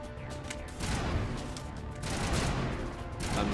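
Sustained gunfire in Mass Effect, a sci-fi shooter, arrives in dense overlapping volleys across a few seconds of loud combat noise.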